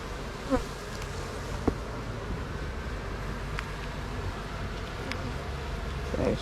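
Honey bees buzzing steadily at an open hive during feeding, a dense continuous drone close by with occasional louder individual bees passing near, no one talking.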